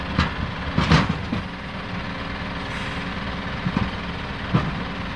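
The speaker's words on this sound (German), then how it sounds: "Der Sechszylinder ist halt der Sechszylinder." Mercedes-Benz Unimog U219 six-cylinder engine idling steadily in winter conditions, a low rumble with a few brief louder bursts, heard close with no talk.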